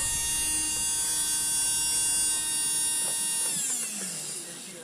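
Tamiya Torque Tuned electric motor spinning steadily with a high, even whine and hum, close by, then winding down in pitch near the end.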